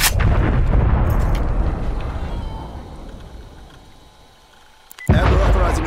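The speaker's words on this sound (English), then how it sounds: "Artillery targeting detected. Artillery inbound." Artillery strike explosions in Call of Duty: Black Ops Cold War, a loud booming blast that rumbles and fades over several seconds, then a sharp new impact erupts at close range near the end.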